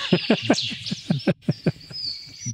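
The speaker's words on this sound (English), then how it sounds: "It's a loud bird." Loud bird call, a rapid series of sharp repeated notes in bursts, close and prominent, with a brief pause before more calls follow.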